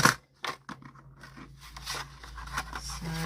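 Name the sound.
scissors cutting paper for a junk journal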